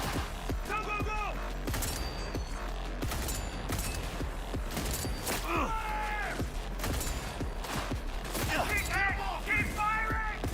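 Video game gunfire in Guild Wars 2 or Monster Hunter Wilds plays as rapid repeated shots and impacts over steady game audio, with voices talking over the action.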